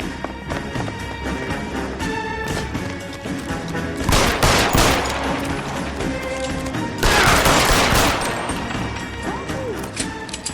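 Gunfire in the video game L.A. Noire, dense bursts of shots and crashing impacts over a busy mix of game music and effects, swelling louder in two heavy stretches.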